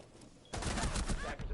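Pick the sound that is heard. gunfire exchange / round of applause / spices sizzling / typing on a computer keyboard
gunfire exchange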